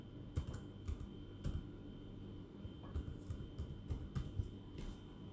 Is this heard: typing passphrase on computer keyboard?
yes